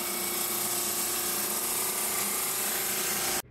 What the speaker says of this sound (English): I do need to run them through my drum sander quick